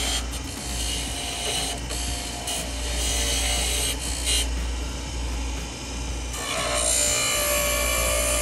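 A metal captive ring is sawn loose by hand, a continuous rasping back-and-forth scrape with steady strokes and brief pauses, close and fairly loud with no voices.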